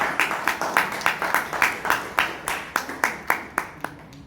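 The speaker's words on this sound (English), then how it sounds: "Everybody give a big round of applause for Shraddha" Applause at a Toastmasters meeting in Bangalore, sounding thin and sparse, with a steady run of separate claps, likely from only a few people, in a small room.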